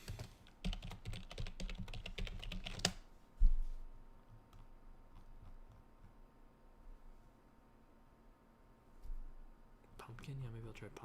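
Quick bursts of clicking keys on a computer keyboard as a search is typed, close and light, with a pause between flurries and some talking nearby.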